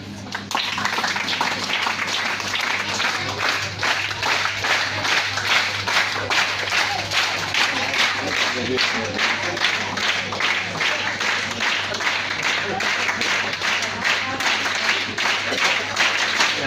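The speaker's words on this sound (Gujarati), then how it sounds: "આપણે ભેટને તાળીઓથી વધાવીએ" An audience at a Gujarati school storytelling program claps together to welcome a gift being presented, a continuous, fairly loud patter of many hands lasting throughout, with some talk mixed in.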